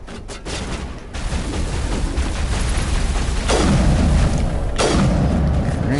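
Gunfire in Mass Effect: loud, heavy booms and a continuous rumbling barrage fill the whole stretch, with two sharp blasts standing out near the end.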